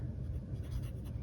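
Fine-nib Pilot Kakuno fountain pen writing on paper, a soft continuous scratchy rustle close up and quiet, with no talking.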